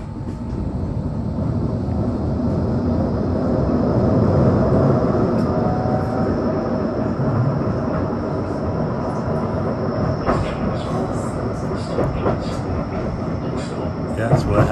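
A tram travelling from Fleetwood toward Starr Gate gives a continuous rolling rumble with rail clatter and faint clicks, heard from on board with some background voices.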